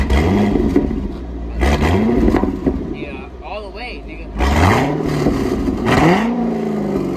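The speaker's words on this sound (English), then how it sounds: "Rev it up. Rev that bitch up a little bit." An LS3 Corvette V8 with a new Corsa exhaust revs repeatedly, deep throaty blips rising and falling close by, with people talking around the car.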